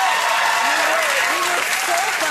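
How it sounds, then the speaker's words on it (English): Studio audience on a late-night talk show bursting into steady, loud applause that fills the whole moment, with a few cheers rising through the clapping. "The pause before the audience applauded was awkwardly long."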